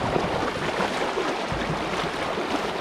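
Pond spillway during flooding, water rushing out fast in a steady, loud broadband roar that fills the whole clip without pause.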